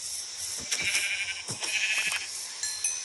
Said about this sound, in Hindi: अबे भेड़ कहाँ भाग रही है।